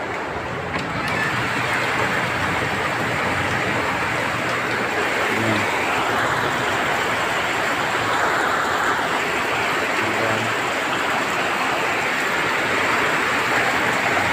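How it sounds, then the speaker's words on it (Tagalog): Steady, dense downpour hissing continuously throughout, loud and close, with no pauses. "yan walang tigil yung ulan mga katropa"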